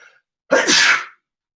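One sharp, close human sneeze bursts out alone after a short faint breath, loud and abrupt, lasting about half a second.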